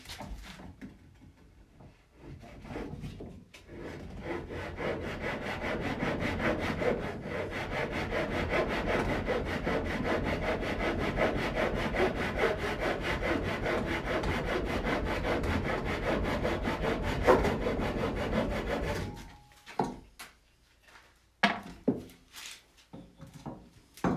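A bandsaw cuts through a wood block with a sustained, close rasping buzz that starts after a short run-up, holds steadily for about fifteen seconds, then stops, followed by a few scattered knocks.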